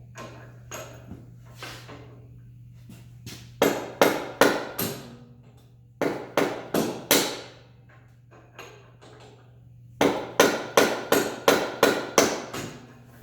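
Hard metallic whacks of a hammer driving a socket extension against a seized axle on a Honda CB750 chopper, struck in quick bursts of four to six blows separated by pauses, loud and close over a low steady hum.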